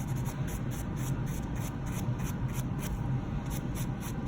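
A buffer block rubs a natural nail with quick, rhythmic scratchy strokes, close and continuous, each pass a soft rasp repeating several times a second with no talk.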